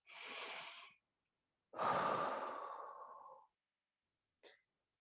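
Slow, deliberate breaths from a fascia fitness class resting at the end of a session: a soft exhale, then a longer, fuller breath out after a pause, and a brief faint sniff, all close and quiet with no talking.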